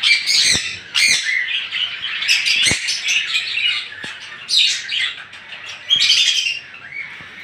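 Pet birds for sale, budgerigars and cockatiels among them, chirp and squawk in a dense, continuous chorus of overlapping calls with sharper bursts throughout.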